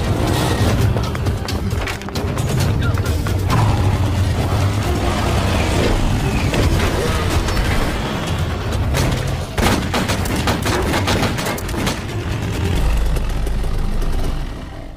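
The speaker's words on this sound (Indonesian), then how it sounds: "3 utusan Alvarez datang menghujani Mark dengan peluru" Three assassins fire on a man in a police revenge action film about a mafia organization, with loud repeated gunshot bursts and booms over a tense rumbling score and engine noise throughout.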